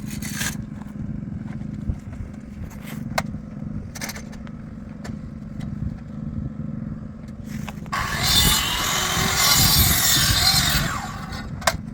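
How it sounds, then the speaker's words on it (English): A hand saw cuts a timber cross beam for a circular deck outdoors, with scattered scraping and knocking strokes early on, then a louder sustained stretch of rasping sawing near the end. "now I've got these measurements now where I can cut this cross timber"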